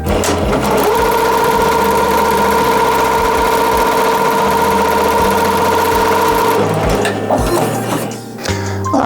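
An embroidery machine stitching a free-standing lace design runs steadily and loudly with a constant mechanical hum and rapid stitching rhythm, then stops near the end, leaving quieter clunks and handling sounds.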